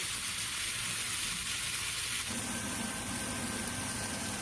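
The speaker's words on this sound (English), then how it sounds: "As I have added the oil here, I am placing the beef steaks very gently." Beef steaks frying in oil for a Bangalore-style green steak, a steady broad hiss of sizzling throughout that grows slightly fuller partway through, no talk.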